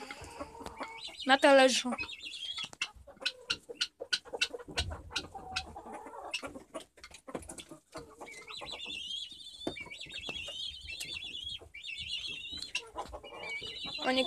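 Hens and a rooster cluck in a backyard coop during evening chores, with soft close clucks and sharp calls scattered through, while a person speaks briefly over them.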